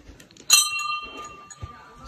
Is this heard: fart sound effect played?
no